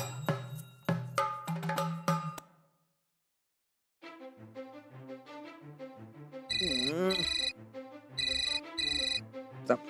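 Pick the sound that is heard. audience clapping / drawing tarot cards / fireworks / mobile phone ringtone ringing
mobile phone ringtone ringing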